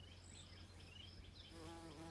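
Bombus affinis bumblebee buzzing steadily over crimson clover outdoors, a faint continuous hum with a low drone beneath and soft insect whine, alone without voices.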